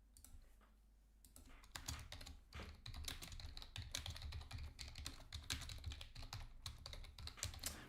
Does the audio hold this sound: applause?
no